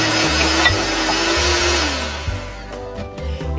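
An electric mixer creaming sugar and cream cheese for caramel corn cookies, a steady loud motor whir that drops in pitch and cuts out near the end, then restarts briefly with short bursts.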